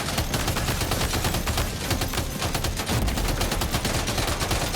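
Rapid, continuous automatic gunfire from a weapon in Death Stranding 2, loud and dense bursts filling the whole stretch with no talking.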